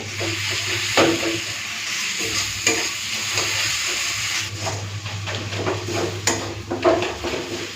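Ginger, garlic and dried red chilli paste sizzling in oil for a mutton curry with papaya and potato, with steady frying and repeated scraping stirs of a spatula against the pan.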